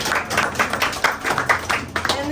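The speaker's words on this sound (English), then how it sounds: "Give yourselves a round of applause." Audience applause at a Women in Jazz event in Harlem, New York, irregular claps of moderate loudness with a voice or two in the room.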